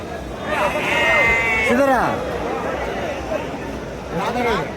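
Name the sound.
goats bleating at a sheep and goat market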